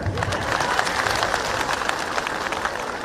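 Women in the audience at a live public event in Rampur with the Chief Minister clap together, producing a thick, sustained roar of applause with a few sharper claps standing out.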